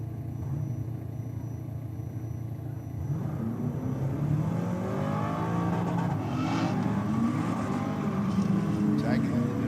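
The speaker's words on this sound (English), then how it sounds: "First night out with the black Commodore, the nitrous on." A black Commodore drag car running with nitrous at Sydney Dragway, its engine droning steadily and then rising in pitch as it accelerates, heard at a moderate distance with voices talking over it.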